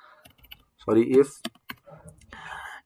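A few sharp computer keyboard clicks while code for an if-else programming exercise is typed, heard in short bursts around a person speaking.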